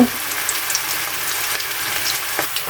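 A medium chopped onion fries in hot oil toward light brown for a hilsa curry with potato and pointed gourd, giving a loud, continuous close sizzle with a few small crackles.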